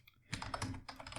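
Fast keystrokes on a computer keyboard while writing HTML code, a quick close burst of soft clicks with no speech.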